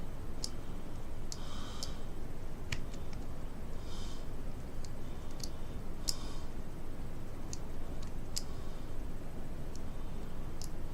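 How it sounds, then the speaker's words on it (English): Small, sharp ticks and clicks sound at irregular intervals as grub screws are tightened on a Hellvape Dead Rabbit atomizer, faint and close over a quiet background hiss. "I'll just nip those two grub screws up."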